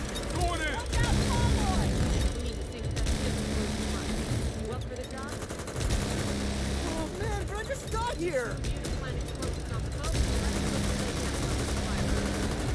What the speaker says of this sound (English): Just jump on the turret and start fucking shooting